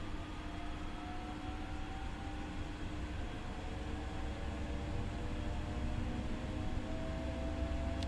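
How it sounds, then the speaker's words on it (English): A steady, even hum from the air conditioning fills the cab of an SNG Sprinter regional train in Train Sim World 5, a constant low rush with faint tonal whines and no talk. "It's got powerful air conditioning, I can hear that."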